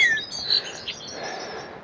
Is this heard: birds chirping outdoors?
yes